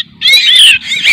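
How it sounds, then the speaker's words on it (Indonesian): Javan myna chicks taken from a nest squawk loudly and close by in two harsh, raspy bursts with a short break between them. "Kita dapat dua ekor ya, anak jalak kebo ya"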